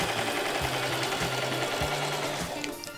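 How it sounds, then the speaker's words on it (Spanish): A sewing machine stitching a French seam on the side of a dress, running in a fast, steady mechanical whir with short pauses between bursts, close and clear without talk. "Cosemos ambos costados igual, con costura francesa."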